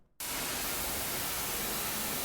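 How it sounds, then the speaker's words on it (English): Pitched-down white noise used in a rock music production, played with no gate. A short silence gives way to a steady, loud, ungated hiss that holds evenly to the end. "So this is what the white noise sounds like without the gate."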